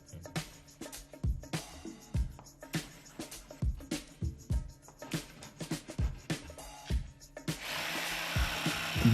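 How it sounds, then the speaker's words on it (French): A jigsaw cuts a humped wooden board for an elephant rocking chair. Irregular knocking strokes repeat for several seconds, then the noise turns into a steady, continuous buzzing cut near the end. "Découpez à la scie sauteuse la première planche à bosse comme les renfoncements."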